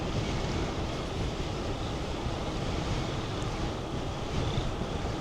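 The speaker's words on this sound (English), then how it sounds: "It's still kind of windy out here." Constant wind rushes and rumbles outdoors, a dense steady roar with slight gusty swells and no voices.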